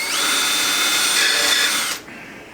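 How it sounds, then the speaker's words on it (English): A power drill bores pilot holes for screws during a wagon build, a steady high whine running for about two seconds before cutting off abruptly, close and loud with no voices. "I'm just going to go ahead and drill a pilot hole"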